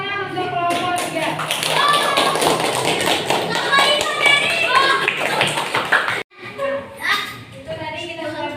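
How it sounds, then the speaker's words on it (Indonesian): Schoolchildren in a classroom clap for a student group, a dense burst of applause mixed with excited young voices that cuts off abruptly, followed by scattered voices and a few claps. "Tepuk tangan untuk kelompok 3."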